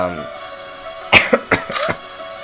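A few sharp coughs in a short burst, close by, with a steady background hum.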